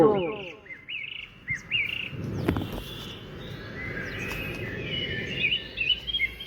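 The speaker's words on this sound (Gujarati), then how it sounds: "પંખીનો કલરવ હતો." Birds chirp and trill repeatedly, with short rising tweets from several birds over a steady outdoor background hum.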